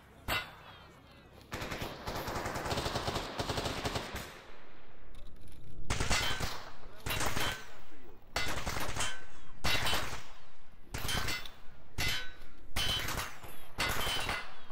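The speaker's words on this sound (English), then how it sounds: "They are shooting through this." Gunfire in S.T.A.L.K.E.R. GAMMA near Limansk rattles in loud automatic bursts and single sharp shots, with a long sustained volley early on, then repeated close, choppy bursts separated by brief gaps.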